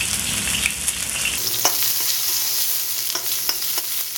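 Mushrooms and vegetables frying in lard for fried rice, a loud, steady sizzle with stirring scrapes and a few sharp clicks of a utensil, alone with no talk.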